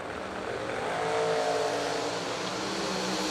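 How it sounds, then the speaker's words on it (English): Drag racing cars at a racetrack launching, including a wheel-standing Chevy Nova, heard as a loud, continuous roaring engine blare with rising revs that holds for several seconds without speech. "Hey, Bo, dial 559 in the wheel-standing Chevy Nova."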